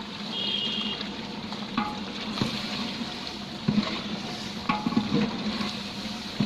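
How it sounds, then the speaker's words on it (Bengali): Turmeric and chili frying in a pan for bhuna khichuri, a steady close sizzle with scattered scraping and stirring clatter throughout, no voices. "এটা একটু হালকা ভাজলাম"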